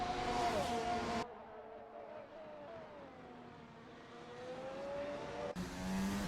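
Racing cars sweep through a turn, engine notes rising and falling with gear changes, heard through a distant, muffled stretch that gives way to louder, closer passes at the start and end.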